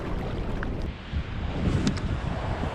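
Choppy sea during shore lure fishing for bass in the UK, a rough wash of waves and gusty wind noise buffeting the microphone, loud and continuous with a few splashes.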